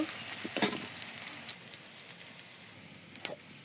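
Soft frying sizzle of onions in oil in a wok, with a few sharp clinks and scrapes of stirring, close by and fairly quiet.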